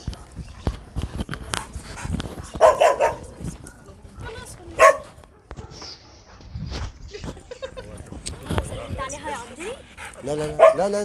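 A pet dog greets its owner at a reunion with excited barks, yips and whimpers scattered through the scene, mixed with people talking over it close by.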